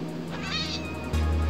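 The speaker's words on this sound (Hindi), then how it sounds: "बिल्ली स्पॉन हुई है।" A single clear cat meow from Minecraft, rising and then falling, sounds close and distinct over a steady low game hum.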